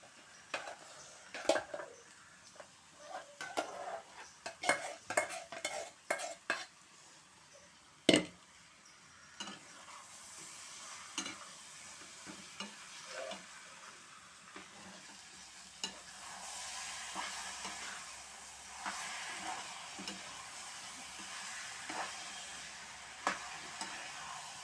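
Vegetable curry stirred into softened onions and ginger in a pan, with a spoon scraping and clinking against the metal in loud, irregular strokes at first, then a steady sizzle of frying that continues alone.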